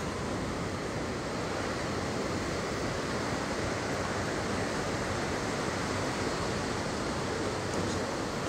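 Ocean waves washing onto an African beach, a dense, constant roar of surf and wind noise, steady and unbroken with no distinct breaks or voices.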